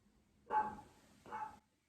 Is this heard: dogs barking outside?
yes